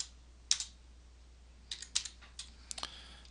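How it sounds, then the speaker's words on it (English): Keys on a computer keyboard tap in sparse, quiet clusters as code is typed, a few isolated clicks followed by short runs of keystrokes, with no talking. "I'm going to type print and then open quote, the login form, close quote."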